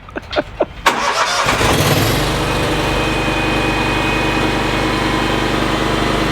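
Engine of a Hustler Super 88-inch stand-on mower cranking with a few sputtering turns, then catching and settling into a loud, steady idle close by.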